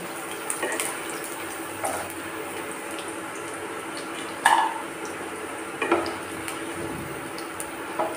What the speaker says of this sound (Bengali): আমার কাঁচকলাগুলো ভাজা হয়ে গেছে, আমি এবার এগুলোকে তুলে নেব।